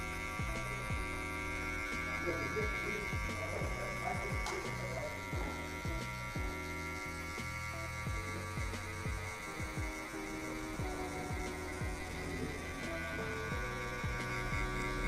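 Electric hair clipper with a half-size guard and open lever runs steadily while cutting a mid fade, a continuous buzzing hum with faint rhythmic throbbing as it glides in straight strokes through hair.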